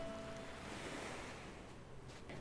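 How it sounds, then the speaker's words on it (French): Gentle ocean waves roll onto a beach in the Animal Crossing video game, a soft, continuous wash of surf that is quiet and steady throughout, with no talking. "le bruit des vagues"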